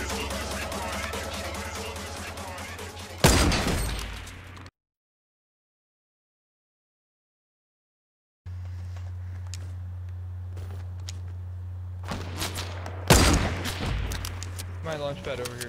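Gunfire in the shooter game Fortnite, heard as two sharp, loud shot bursts several seconds apart over steady game music and ambience, with a stretch of complete silence between them.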